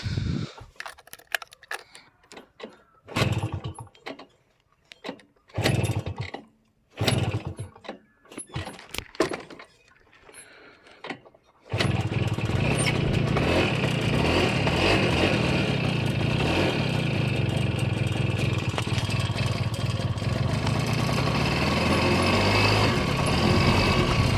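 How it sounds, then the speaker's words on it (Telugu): A TVS XL Super moped engine drones steadily and loudly while riding, following a stretch of intermittent knocks and mechanical bursts with gaps between them. "మన సైకిల్ తర్వాత ఇది మనం తీసుకున్న బండి ఎక్సెల్ సూపర్ ఎక్సెల్"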